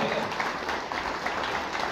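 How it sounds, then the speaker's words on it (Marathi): Continuous, dense clapping from an audience at a gathering for Covid patients at a health centre, steady and fairly loud throughout. "तुम्हाला किती आनंदाने टाळ्या वाजवता येईल"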